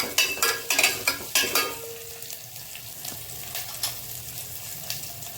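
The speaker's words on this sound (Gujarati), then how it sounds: "લીલી મરચી, લીમડાના પાન, આદુની પેસ્ટ અને ધીમા ગેસ ઉપર આપણે તેને ફેરવશું." Green chillies, curry leaves, sesame seeds and ginger paste are stirred in a hot pan over a low flame. A few loud utensil clatters come early, then a continuous close sizzle.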